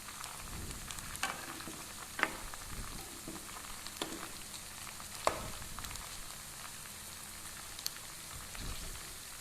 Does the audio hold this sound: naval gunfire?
no